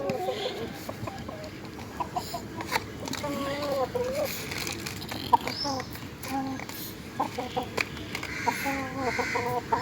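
Tiger roosters cluck in repeated short bursts around a farm setting, fairly close, with a person talking throughout and the clucks breaking through between the speech.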